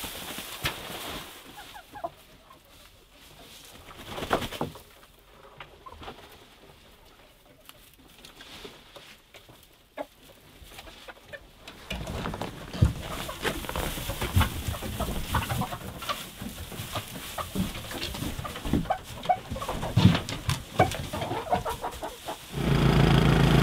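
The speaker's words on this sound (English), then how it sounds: "Even though these chickens are Icelandics, they do not like the snow." Icelandic chickens cluck softly in snow, scattered faint calls over a quiet outdoor background that later grows busier with light patter and rustle.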